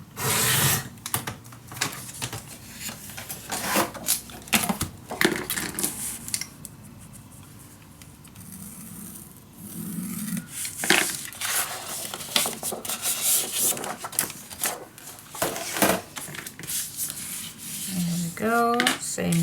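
Paper album pages are cut and handled on a craft table, giving close, irregular scraping, rustling and snipping sounds in uneven bursts, with no speech.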